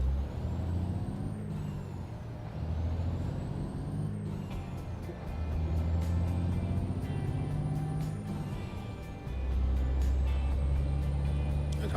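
A heavy truck engine with a 13-speed transmission and retarder drones in American Truck Simulator, its pitch climbing and dropping through repeated gear shifts, with a sharp hiss of air brakes partway through.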